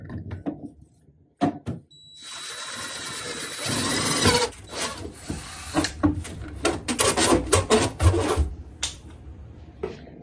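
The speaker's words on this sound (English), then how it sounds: "I'm gonna go ahead and use this hole saw drill bit" A 54 mm (2 1/8 inch) hole saw bit cuts a hole through the back of a wooden drawer being made into a shelf, giving a loud, sustained grinding rasp with pauses and uneven bursts, close up.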